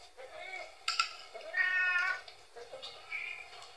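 A cat meows several times close by in a quiet room. The calls are short and whiny with clear pitch, spaced unevenly across a few seconds, and no talk is heard.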